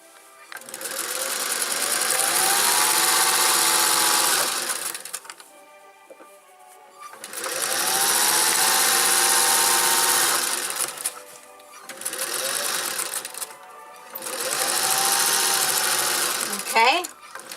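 A sewing machine stitching the hem of an apron whirs in long, loud runs close by, stopping and restarting three times with brief quiet pauses between.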